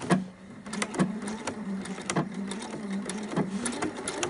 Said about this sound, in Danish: jeg syr her med en centimeter sømmerum